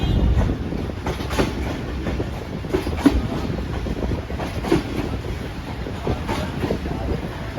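Pakistan Railway's 27Up Shalimar Express leaving Faisalabad for Lahore, a steady loud rumble of the moving train with rail clatter and wind buffeting, no talk.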